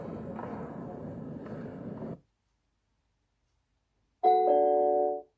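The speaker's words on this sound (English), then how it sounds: "Someone's at the front door doorbell." A Google Nest doorbell chime rings out clearly as a short, bright tonal ding lasting about a second, following a stretch of muffled noise and a silent gap.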